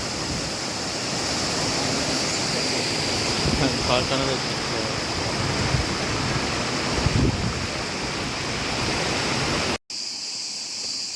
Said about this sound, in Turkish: Şelale bu.